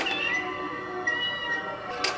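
An animated Halloween decoration cat gives an electronic meow, a steady tonal cry lasting about two seconds with small swells, heard close and alone without talk.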